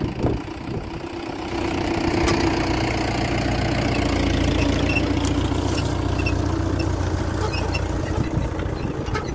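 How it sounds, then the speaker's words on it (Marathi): Tractor engine running steadily while pulling a seed drill for soybean sowing on a farm, a loud, close, even rumble with a knocking throb that holds for the whole stretch, no talk. "हे आपलं ट्रॅक्टर आहे, ट्रॅक्टरवर बसून आहे मी"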